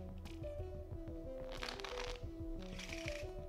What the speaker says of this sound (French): Jeu de cartes qui peut être mélangé par le spectateur.